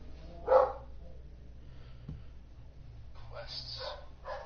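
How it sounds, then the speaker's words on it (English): A dog barks a few times in the background, one sharp bark early and a cluster later, faint beneath a person talking. "My dog is barking at,"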